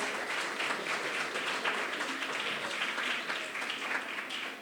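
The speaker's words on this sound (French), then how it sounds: "On l'applaudit bien fort." An audience at an eloquence tournament evening claps together, a dense, steady round of applause filling the room throughout.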